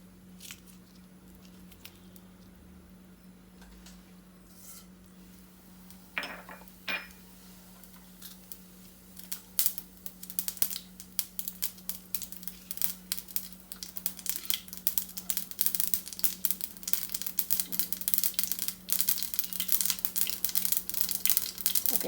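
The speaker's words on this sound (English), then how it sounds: "I'm going to add the mustard." Mustard seeds crackle and pop in a hot pan while cooking an okra and coconut stir-fry. The popping is sparse at first, then builds into a dense, steady sizzle and crackle over a low kitchen hum, with no talk.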